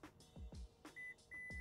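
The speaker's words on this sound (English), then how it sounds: "Once it beeps, you're good to go." A Subaru Forester tailgate beeps twice as its height memory is set, short thin electronic tones over soft mechanical clicks and thumps, quiet and close.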